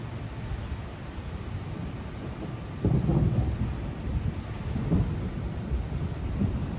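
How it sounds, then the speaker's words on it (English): Rumbling thunder rolls through a summer rainstorm in downtown Lexington, Kentucky, heard over steady rain hiss, with a louder low burst midway and another swell later, distant and deep. "Okay, there's the thunder and the lightning."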